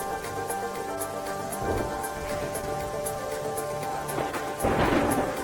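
Heavy rain falls in a steady patter, with scattered louder splashes and a couple of heavier gusts or bursts toward the end, at moderate volume.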